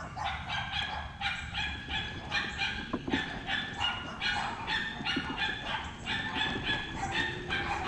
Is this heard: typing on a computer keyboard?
no